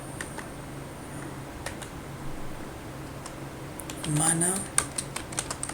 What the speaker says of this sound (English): we need to type Mana Construction News